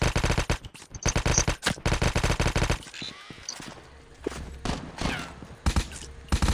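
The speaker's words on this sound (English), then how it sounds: "There's somebody else shooting" Rapid automatic gunfire in Call of Duty Mobile comes in long, dense bursts, loud and close at first, then gives way to sparser, fainter shots further off.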